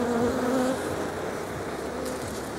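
Honey bees buzz at an overwintering hive in March, a dense, close insect drone that stays steady throughout, with a few brief higher whines from individual bees.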